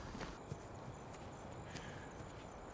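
Horse hooves clip-clopping at a walk on ranch ground, a few soft, irregular knocks under steady outdoor background noise, fairly faint and distant.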